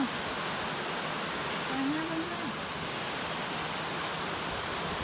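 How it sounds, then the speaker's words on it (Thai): Heavy rain pours down outdoors at a home, a dense, even hiss of drops hitting surfaces that stays loud and unbroken, with a faint passing whine or voice in the middle. "ให้ดูฝนแล้ว ตกเยอะมาก"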